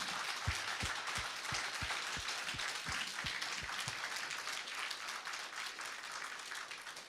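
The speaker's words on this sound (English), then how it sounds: "ask you for a big applause" Audience applause at a progressive political summit on Ukraine and EU membership, a few close distinct claps at first under a broad wash of clapping from the crowd that carries on steadily.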